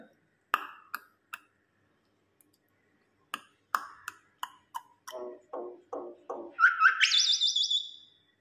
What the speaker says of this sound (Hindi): हमारी मैना इस तरह बोलती है।